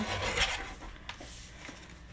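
Card stock being trimmed for card making: a soft, close rasping slide of the trimmer across paper, brief and fairly quiet.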